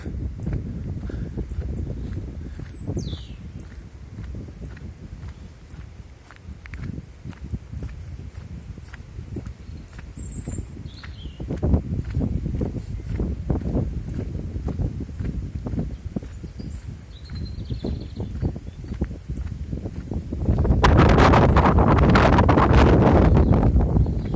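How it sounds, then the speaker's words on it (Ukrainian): Gusty wind roars outdoors in the resort park at Truskavets, Ukraine, rising to a loud, steady blast near the end, with footsteps and rustling beneath it. "Вітер."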